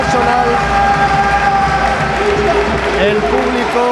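A basketball crowd applauds a play in a Spanish women's basketball game, Damex UDEA against C.B. Prat. Steady clapping and cheering fill the gym for a few seconds, with some background chatter.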